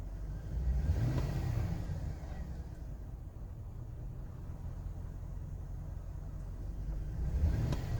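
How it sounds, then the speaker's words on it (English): A 2005 Chevrolet Silverado with a suspected camshaft or crankshaft sensor fault, its engine rumbling low and swelling in short throttle blips near the start and end, fairly faint and muffled. "All right, let's give it some gas."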